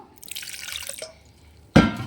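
Water is poured into a container while preparing a homemade insect repellent spray: a splashing trickle runs for about a second, goes quiet, then a louder, fuller pour or splash comes up close at the end.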